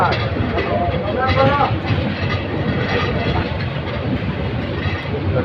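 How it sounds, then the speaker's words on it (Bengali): A Parabot Express passenger train pulls out of a station on the Dhaka to Sylhet line, its steady rumble and rail clatter running continuously and close, with a voice heard over it. "ট্রেনটি বাক্য স্টেশন থেকে বেরিয়ে যাচ্ছে"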